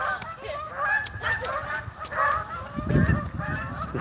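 Several geese honk loudly and close by in overlapping calls, harsh repeated cries crowding together across the whole stretch.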